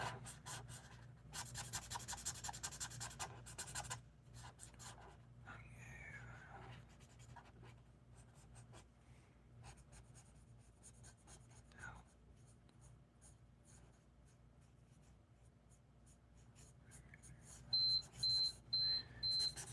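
Pencil or marker scratching and rubbing across paper while coloring in a drawing, steady and close, with people talking quietly over it and a short run of electronic timer beeps near the end.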